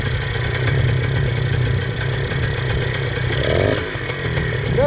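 A 1978 Kawasaki KD175 motorcycle idling with its choke up, holding a steady, uneven low engine rumble with a rattly clatter, close by and alone.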